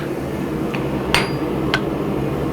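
A hand hammer strikes metal while a ladle is forged in a smithy, giving two or three sharp ringing clinks against a loud steady background roar, with no talk.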